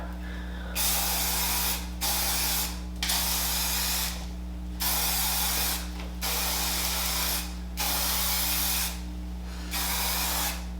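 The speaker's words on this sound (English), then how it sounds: "It's a heat protectant spray and it's a hairspray, all in one." A heat protectant hairspray is sprayed in repeated bursts, about eight loud hissing sprays of roughly a second each separated by short pauses, close to the mic over a steady low hum.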